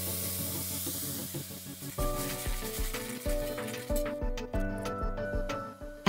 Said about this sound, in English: Once the oil has warmed up a little, add the crushed garlic and mix.